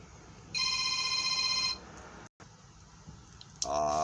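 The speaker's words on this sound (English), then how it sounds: "Perfect timing for a phone call." A telephone rings indoors in a small-engine repair shop, a steady electronic trill held for about a second, briefly cut off, then a second ring bursts in, loud and close.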